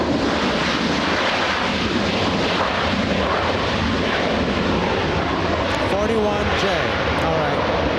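A British Airways airliner at LAX, its engine roar a loud, steady broadband rumble with wind buffeting throughout, while a voice talks over it intermittently.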